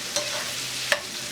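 Peppers stir-fry in a pan for vegetable shrimp noodles, a soft continuous sizzle with two brief clicks of a utensil against the pan.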